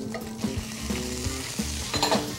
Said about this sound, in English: So we want to just saute the seafood until it's finished